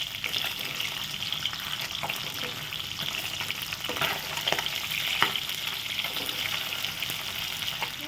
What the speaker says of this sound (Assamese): তেলটো গৰম হোৱাত মই ইয়াতে কেইপিচমান মাছ দি লাহে লাহে লৰাই দিছোঁ